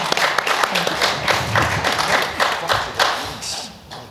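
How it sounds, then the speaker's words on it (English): Audience applause at the close of a talk on marketing tools, a burst of irregular clapping with some crowd noise that fades slightly toward the end. "Let's give another round of applause."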